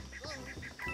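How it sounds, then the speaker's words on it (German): Duck quacking in the video game Mario + Rabbids Kingdom Battle, a run of short nasal quacks in quick succession, close and fairly loud, with a last louder call at the end. "Ja, hier ist die Ente."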